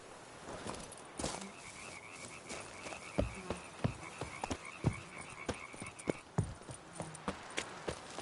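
Horse hooves clip-clopping at a steady gait in the Witcher 3 video game, fairly faint and even in rhythm, with croaking frogs and buzzing insects in the background.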